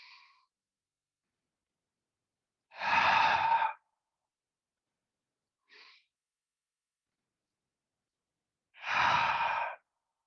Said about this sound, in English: Take a deep breath in. Let it out.